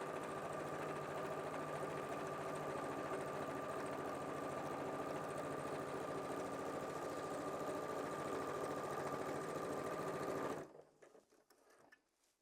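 A sewing machine runs steadily, stitching a hem along hessian fabric for a rag rug, a continuous close whirring drone that stops abruptly near the end, leaving quiet.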